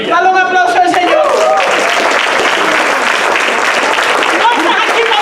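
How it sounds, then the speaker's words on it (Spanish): A congregation in a Spanish-language church service breaks into loud, dense applause while a voice carries on over the clapping at the start. "Dale un aplauso al Señor"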